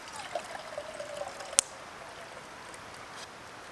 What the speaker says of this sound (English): Just chucking about 250 mils worth of water